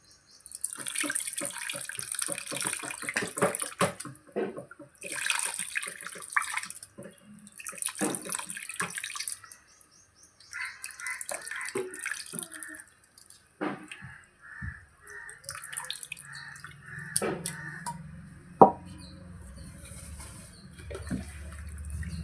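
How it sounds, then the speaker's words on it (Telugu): Tamarind juice poured into a pot of fish curry, heard as repeated bursts of splashing, trickling liquid with short pauses, close and fairly loud, ending in a sharp knock and a lower bubbling. "చింతపండు రసం పోసుకుందాం."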